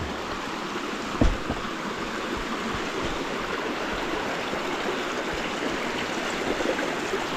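A mountain stream rushes through Yongchu Valley on Daeyasan in Mungyeong, a steady, close, full-bodied wash of flowing water that continues without a break and with no voices.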